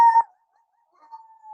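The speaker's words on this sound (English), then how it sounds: "Until he heard a dog." A dog in a children's story howls briefly and loudly at the start, followed by quiet, then a faint, thin drawn-out whine near the end, with no talk.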